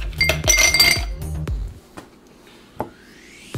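Ice cubes rattle and clink against a cocktail mixing glass while a drink is being made: a dense burst of bright clinks at first, then a few sharp, isolated knocks that ring out, close and loud.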